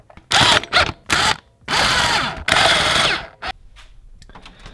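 Power tool bursts snugging bolts on an engine oil cooler plate of a 3.0 TDI CNRB diesel, several loud whirring runs of varying length separated by brief pauses, fading into quiet workshop noise at the end.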